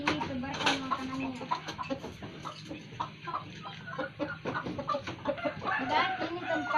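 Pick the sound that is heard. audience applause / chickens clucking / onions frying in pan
chickens clucking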